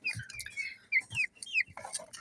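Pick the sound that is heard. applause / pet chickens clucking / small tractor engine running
pet chickens clucking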